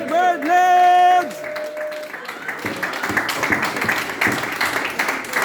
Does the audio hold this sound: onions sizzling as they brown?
no